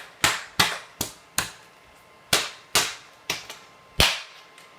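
A Remington 700 rifle in an MK Machining bullpup chassis gives sharp, dry trigger snaps and bolt clacks, about eight crisp clicks in an uneven rhythm, close and distinct with quiet gaps between.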